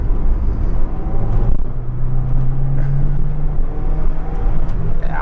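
A 1987 Ford Telstar TX5 Turbo, long unused, pulls in second gear with a steady, loud engine drone that holds a rising tone throughout, heard from inside the cabin with no talking.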